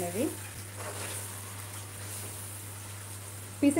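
Fish curry pieces frying in oil in a pan while being stirred, a soft steady sizzle with occasional scraping, quiet and close, and a brief voice near the end.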